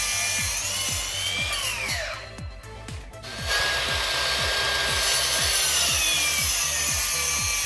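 Hand saw cutting a wooden board for carpenter bee traps, with about fifteen steady back-and-forth strokes in a regular rhythm, close and loud, a brief pause in the middle before sawing resumes.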